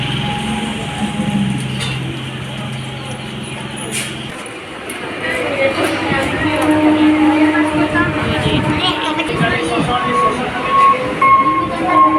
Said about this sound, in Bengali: একটা ঢুকলো, দুটো ট্রেন এসে গেল।